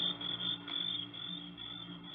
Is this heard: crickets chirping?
yes